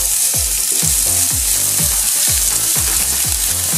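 Onion frying for a barbecue lasagne, a loud, close, dense sizzle with a run of rhythmic low thumps and scrapes roughly every half second as the pan is stirred.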